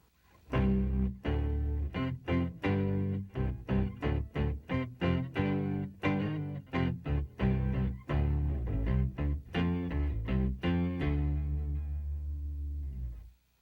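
A guitar run through an Electro-Harmonix Micro POG polyphonic octave pedal, wet signal only, gives a deep, bass-like tone, playing a rhythmic line of plucked notes before a final held note fades.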